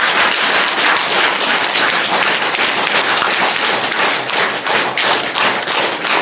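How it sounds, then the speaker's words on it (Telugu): Audience clapping loudly after a meditation talk at a pyramid meditation centre, dense continuous applause from many hands, close and sustained throughout. "క్షేత్ర నిర్వాహకులకు గట్టిగా క్లాప్స్ ఇద్దాం"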